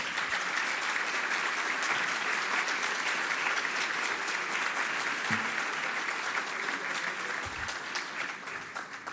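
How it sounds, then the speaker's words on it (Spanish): Sustained applause from a large audience at a business event in Mérida, dense and steady throughout, easing slightly toward the end with no voices standing out. "Un aplauso para todos ellos, por favor."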